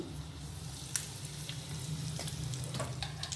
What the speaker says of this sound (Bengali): দিয়ে দেব একটা শুকনো লঙ্কা ফাটিয়ে। দিয়ে দেব সর্ষা আর একটু হিং।